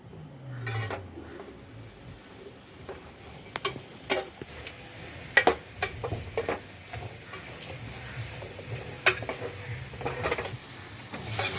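Veldt grape (nalleru) tossed in a pan after roasting other ingredients for a spice powder: quiet stirring scrapes and soft dry rustles, with scattered sharper clinks of a spatula against the pan.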